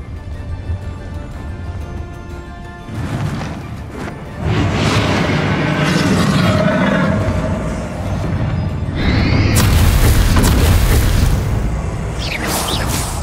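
Explosive Confringo and Flipendo spell blasts in the video game Hogwarts Legacy, repeated booms, crashes and whooshes that build in loudness amid continuous combat effects.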